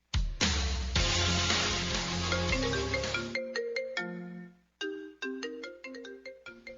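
A cellphone ringtone plays alone, a loud sustained melodic burst followed by a string of bright plucked tones with a short gap, clear and close.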